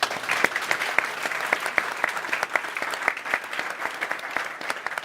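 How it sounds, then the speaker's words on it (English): Audience applause at a delivery-industry meetup, a steady wash of many clapping hands with distinct sharp individual claps standing out, moderately loud throughout. "Warm welcome and applause for you guys"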